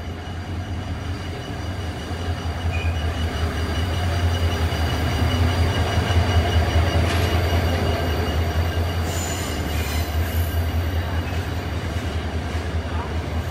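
A train rolls into Rawang station in Malaysia with a loud continuous rumble and wheel noise, brakes squealing faintly near the end as it slows.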